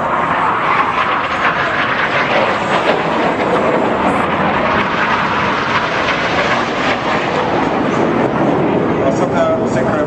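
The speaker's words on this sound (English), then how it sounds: "The pilots here are crossing 100 feet apart, pulling about 6G around this turn, maybe 7, as they run back in to complete the carousels." Red Arrows synchro pair jets running in at low level during an aerobatic display pass, pulling a hard turn; a loud, continuous broadband roar fills the whole stretch with no breaks.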